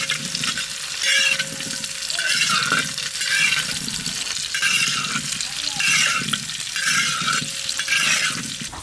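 Boiled potatoes tossed into hot ghee with bay leaf, whole cumin and green chillies, a wet sizzle with repeated stirring scrapes in rhythmic waves, close, with a faint tone running underneath.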